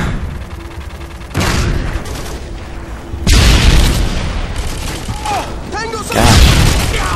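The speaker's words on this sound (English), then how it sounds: "They're just lobbing grenades." Grenade blasts and gunfire in Modern Warfare 2, with several loud booms and bursts of shots arriving in waves over steady background game noise, with a voice heard briefly.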